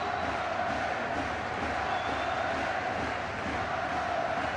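Blackburn Rovers supporters roar and cheer in a stadium at a European match against Red Bull Salzburg, a dense sustained crowd din with chanting.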